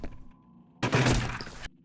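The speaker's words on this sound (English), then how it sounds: "Cans, bells, glass, even plastic jugs seem to have their own unique impact sound." A bullet strikes glass in the video game F.E.A.R., one loud bright shatter lasting under a second over a low game ambience, with no talk.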